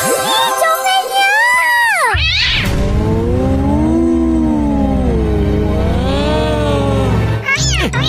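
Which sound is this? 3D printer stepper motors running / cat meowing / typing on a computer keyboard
cat meowing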